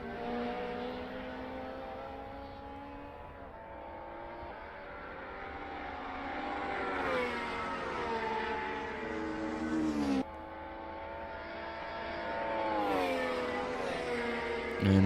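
Vintage touring car racing hard through the Nordschleife, its engine note climbing and dropping through sustained revving as it drifts, loud and close with steady harmonic whine over a constant roar.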